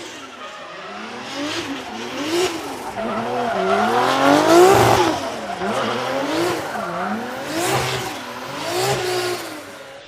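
Drift car at Ebisu Circuit, its engine revving hard and dipping in repeated swells while tires squeal and skid through a long slide, loud and close.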